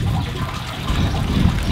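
Fresh water runs steadily from a wooden mountain fountain with flower boxes in Grindelwald, Switzerland, a continuous close splashing flow with no talk over it.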